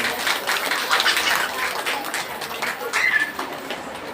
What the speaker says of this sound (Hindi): और YouTube चैनल पर जो लोग बैठ करके सुन रहे हैं उनके लिए भी एक बार तालियां बजाइए।